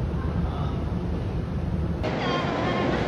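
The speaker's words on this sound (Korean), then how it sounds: "기차역으로 도착했습니다." Busy Bangkok train station ambience: a steady loud wash of crowd murmur and rumbling noise with a continuous high whine, without distinct individual events.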